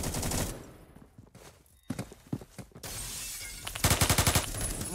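A video-game gun fires in a few scattered shots followed by a fast burst of rapid gunfire, loud and close, with other game sounds between the shots.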